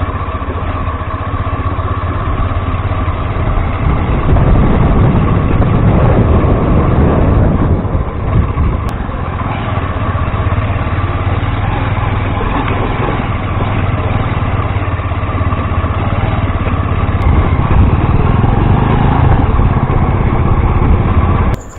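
A 125 cc motorcycle rides off-road, its engine droning steadily and loud throughout, with rough-road rumble and no talk.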